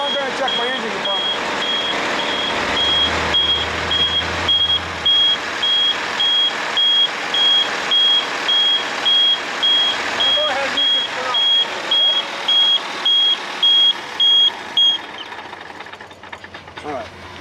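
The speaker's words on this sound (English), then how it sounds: "I'll turn the engine off so you can hear me better" A school bus engine idles with a steady low rumble during a pre-trip inspection, while a high, evenly spaced beeping alarm repeats over it and a voice speaks intermittently.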